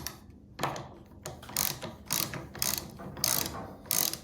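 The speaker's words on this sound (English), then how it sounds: "this is a very lightweight, an extremely lightweight ratchet for its size" A Milwaukee 3-in-1 lineman's high-leverage ratcheting wrench turns a 3/4 inch square nut on a 7/16 inch bolt, giving close, rhythmic bursts of sharp ratchet clicks.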